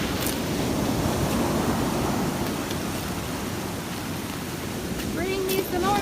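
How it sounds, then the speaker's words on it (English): High waves surging onto the West Gulf beach after Hurricane Sally, a steady, loud roar of surf and wind noise on the microphone throughout, close and continuous. "I mean, look how high the waves are."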